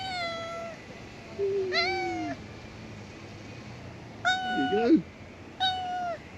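A cat meows four times, each drawn-out and plaintive, with quiet gaps between; a person speaks briefly near one of the calls.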